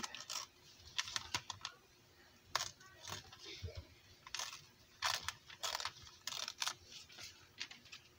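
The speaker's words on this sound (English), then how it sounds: "I can just tear the edges on these to get them to do the shape of the tag" Old, thin paper being torn along its edges to shape tags, heard as short crisp rips and crackles in scattered bursts, close and fairly quiet with pauses between them.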